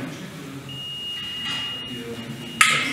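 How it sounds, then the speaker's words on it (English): A coffee maker beeps in a workshop where a Hangprinter 3D printer is being set up, one steady high electronic tone holding for about two seconds, followed by a sharper burst of sound near the end, over faint background noise. "That's the coffee maker, sorry about that noise."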